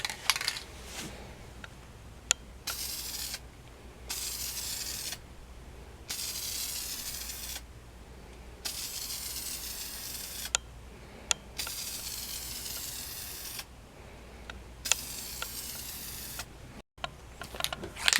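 Clear coat sprays onto aluminum rims in repeated hissing bursts, each lasting a second or two and separated by short pauses, with faint clicks between passes.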